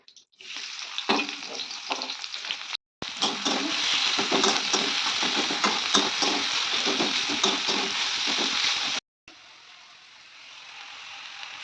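Chopped onion dropped into hot oil in a pan after frying eggs, a loud steady sizzle with stirring scrapes, broken by brief cuts and settling to a quieter fry at the end.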